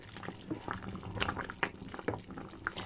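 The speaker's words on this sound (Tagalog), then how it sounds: "So, pakuluan po natin ito." Ginataang bilo-bilo soup bubbling in a pot, a steady close stream of irregular blips and pops from the simmering liquid.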